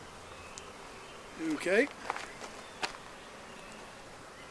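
Honey bees buzz around an open Flow hive, a short close burst of wingbeats with faint rustling and handling noise, and a brief spoken word from someone nearby.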